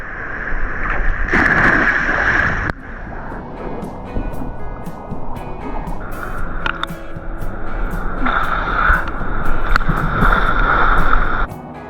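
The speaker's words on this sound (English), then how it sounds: "The waterfall's really loud" A loud, steady rush of falling water at Bell Gorge on the Gibb River Road fills the scene, broken by bursts of wind buffeting the microphone.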